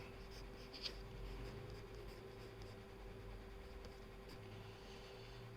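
Pencil sketching eyebrows on paper for a portrait, a faint steady scratchy graphite stroke over a low background hum, close and quiet with a few light taps.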